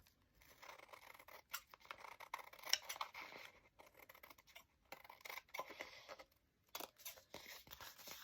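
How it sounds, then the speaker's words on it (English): Scissors snip through excess card trimmed around paper napkin craftwork, with repeated close, crisp cuts and rustling in an irregular rhythm, each snip short and separated by brief pauses. "I'm just going to trim all the excess."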